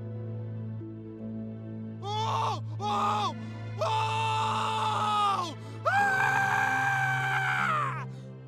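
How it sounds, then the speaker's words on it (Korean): Wailing screams in a horror radio drama: several drawn-out, wavering cries rise and fall in separate bursts above a low, droning background tone, with no talk over them. "어디선가 희미하게 비명소리가 들리기 시작했다."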